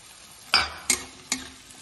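Capsicum fries in oil in a pan, with a soft sizzle underneath three distinct scrapes of stirring spaced about half a second apart.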